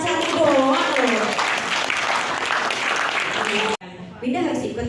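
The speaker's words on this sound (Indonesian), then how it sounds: "boleh tepuk tangannya dong" Students on a school visit to a hotel clap in a short, lively burst under a host's chatter and other voices, cut off abruptly before talk resumes.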